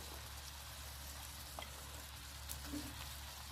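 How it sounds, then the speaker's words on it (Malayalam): About twenty chopped onions added to chicken frying in a pan, a quiet, steady sizzle with a few soft stirring clicks, faint and without voices. "ആദ്യം ഞാൻ ഒരു പത്തിരുപത് ഉള്ളി അരിഞ്ഞെടുത്തിട്ടുണ്ട് അതാണ് ഇട്ട് കൊടുക്കുന്നത്"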